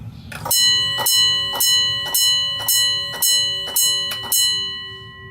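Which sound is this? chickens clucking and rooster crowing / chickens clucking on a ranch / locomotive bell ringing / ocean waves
locomotive bell ringing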